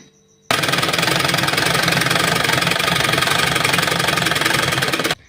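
A sewing machine runs steadily for about five seconds, stitching the sleeve cap of a child's designer shirt, its rapid mechanical clatter loud and close, starting and stopping abruptly.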